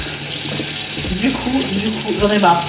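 Water running from a kitchen tap while filling, a steady close hiss of flow under a person speaking French.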